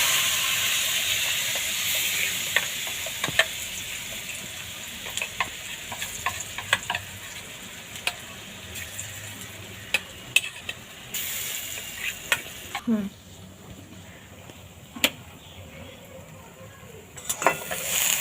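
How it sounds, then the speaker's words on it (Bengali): Lentil filling for dal puri frying in hot oil in a wok, a constant loud sizzle with repeated sharp scrapes and taps of a spatula as it is stirred. "এবার তেল গরম হয়ে গেছে, আমি কড়ার গায়ে চারিদিকে লাগিয়ে নেব। এবার আমি পুরটা এর মধ্যে দেব।"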